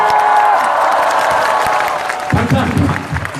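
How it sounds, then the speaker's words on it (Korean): A large outdoor crowd at a public rally in front of Judies Taehwa in Seomyeon, Busan, applauding and cheering loudly. A sustained roar of clapping and voices comes first, then a burst of whoops and shouts rises near the end. "협조해 주시고 계시는 상인 여러분들께도 여러분 큰 박수를 부탁드리겠습니다."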